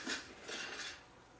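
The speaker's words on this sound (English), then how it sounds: "these teaspoons to get this garlic out" Metal teaspoons scrape and clink against a jar while scooping out minced garlic, a few light scratchy taps close up with no talking.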